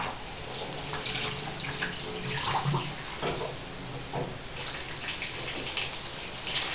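Water runs from a shower jet in a steady, close hiss and splash with small shifts in flow as the spray moves, no voices heard.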